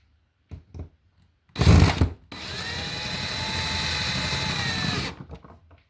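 A power drill drives screws into an electrical box: a few soft clicks, a short loud burst, then a longer steady whirring run at close range before it stops.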